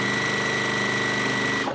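A sewing machine hums in a fast, even run while binding a large quilt, steady and close, cutting off abruptly at the end.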